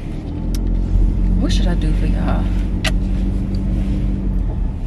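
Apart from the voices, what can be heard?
big rental truck driving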